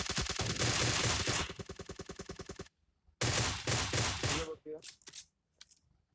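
Rapid automatic gunfire in PUBG Mobile, in long rattling bursts, loud and close, with a short pause, then more bursts and a few scattered shots.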